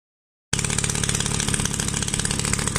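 A restored 1956 Solex 660 moped engine runs steadily after a sudden start, a buzzing close-up idle with a fast even pulse and no voices.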